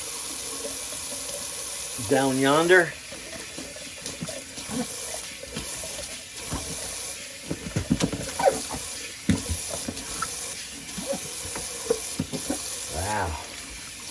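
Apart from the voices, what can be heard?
emptying and rinsing a bathroom sink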